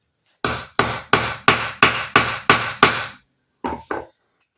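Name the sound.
hammer striking to punch a hole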